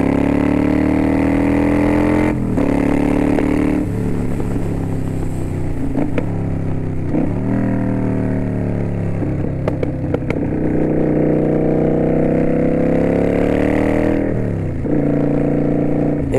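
A Kawasaki Vulcan 900 Custom Special Edition cruiser pulls close and loud through a run of gear changes, its engine note rising with each pull and dropping at every shift.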